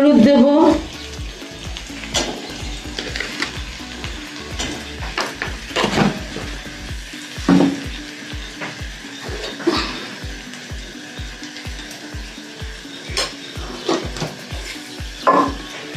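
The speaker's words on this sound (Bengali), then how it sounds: "ভাজা ভাজা করে নেব আলুটাকে" Potatoes sizzle and fry steadily in a pan, with repeated scraping stirs of a utensil and occasional clinks against the metal, close and continuous throughout.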